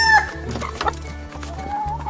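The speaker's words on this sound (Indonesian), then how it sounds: "Di sini ada hewan ayam, teman-teman. Ayam jantan." Rooster clucking with a short crow, close and fairly loud, over a steady low hum in the background, no talk.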